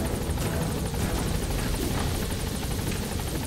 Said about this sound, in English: if you called the helicopter in early, it's there by the time you finish